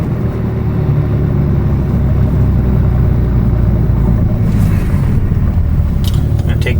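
A BMW G87 M2 fitted with an AWE Track Edition exhaust gives a loud, continuous deep rumble and drone while driving, with a few brief sharper sounds near the end.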